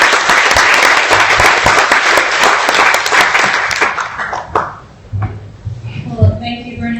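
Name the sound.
audience applause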